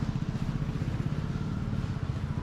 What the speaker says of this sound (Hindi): royal Enfield bike